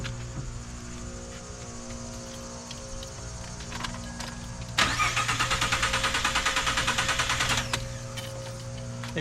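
A 2013 Ford F150 engine cranks without catching, a loud rhythmic churning burst lasting several seconds that comes after quieter clicks, with crickets chirping faintly in the background and no speech.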